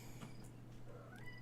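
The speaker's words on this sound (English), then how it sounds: "there's going to be a lot of cat noises because the moms are very perturbed" A distressed mother cat meows amid climbing kittens, a few short faint cries standing out over a steady low background hum, with no voices.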